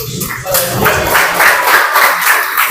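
Students clapping their hands together in a classroom, a loose, moderately loud patter of claps lasting a few seconds with some voices and chatter mixed in.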